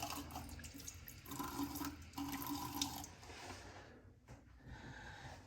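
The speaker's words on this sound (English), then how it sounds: "And now, cold rinse." Water from a tap runs steadily for a cold rinse after shaving. The stream is faint and continuous, briefly breaking off near the end and then starting again.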